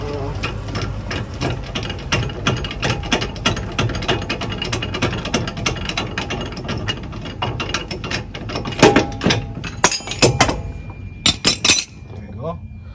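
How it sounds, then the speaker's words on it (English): A ratchet wrench clicks steadily while loosening a nut on a Dodge Ram 1500 ball joint during a front-end rebuild, with rapid metallic pawl ticks close up and a few sharper clinks near the end, as someone talks over it. "You get a wrench and loosen this up."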